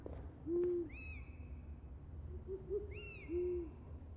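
An owl in the Harry Potter and the Order of the Phoenix PC game gives soft low hoots, then two rising screeches follow, spaced apart over quiet background.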